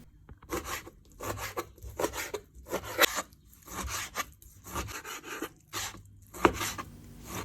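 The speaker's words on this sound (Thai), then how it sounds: "จากนั้นเราก็จะไปเตรียมหั่นปลาเป็นชิ้นบาง ๆจ้ะ" A knife slices fish into thin pieces in repeated short strokes, a rasping scrape through soft flesh with brief pauses between cuts, close and fairly quiet.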